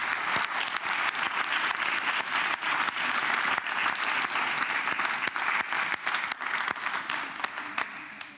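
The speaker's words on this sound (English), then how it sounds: "perhaps we could just give our Year 7s a round of applause to welcome them to the school" A school assembly audience applauds continuously to welcome new Year 7 students, a broad, even wash of many hands clapping for over eight seconds in a large hall.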